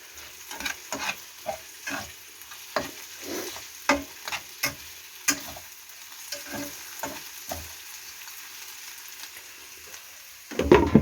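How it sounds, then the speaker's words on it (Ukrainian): Mushrooms, onion and greens frying in a pan, with repeated stirring scrapes and soft sizzling bursts at a steady, unhurried rhythm, close and moderately quiet, ending in a louder rush of steam and sizzle. "Цибульку я додала. Жаряться, зеленочки жаряться."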